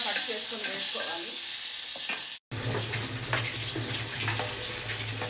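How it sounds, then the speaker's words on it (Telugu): Grated tomatoes hit a hot pan for a spicy tomato rasam and get stirred, a steady loud sizzle with scraping stirs, cut by a brief silent gap midway before the frying resumes with a low hum underneath. "వెంటనే ఒక్కసారి తిప్పేసి 2 పెద్ద టొమాటోలు చాలా తురుముకొని చక్కగా లేదా సన్నగా కట్ చేసుకొని వేసుకోవాలి."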